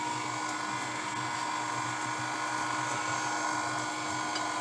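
An electric mixer whirs steadily as it beats orange pound cake batter, a continuous close motor hum with a high whine and no pauses.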